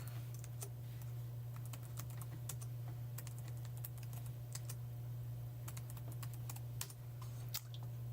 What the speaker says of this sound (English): my typing is terrible tonight